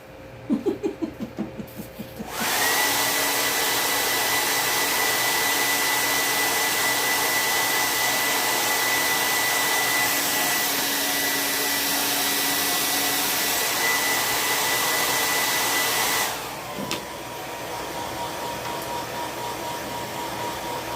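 A handheld heat tool drying a freshly made Halloween ghost craft tag blows a steady, loud whoosh for about fourteen seconds before cutting off, with a little rustling before it starts.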